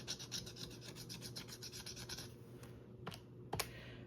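A coin or fingernail rasps quickly across a savings challenge scratch card, a close, faint scratching that runs for a couple of seconds, followed by a few sharper isolated scrapes.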